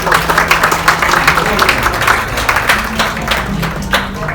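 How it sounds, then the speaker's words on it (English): Audience at a live corporate mentalist comedy show gives a round of applause, steady dense clapping lasting several seconds with a faint voice underneath, close and fairly loud. "give him a round of applause"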